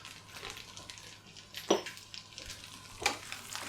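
Garlic and parsley tossed into a frying pan with sizzling bacon, a soft steady sizzle under a few quick scraping stirs and light clinks of utensil on pan, close and fairly quiet with no talking.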